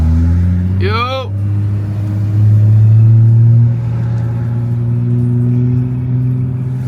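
A modified turbocharged Toyota Supra drives with a steady, loud low engine drone and rumble throughout, with a brief shout from a voice near the start.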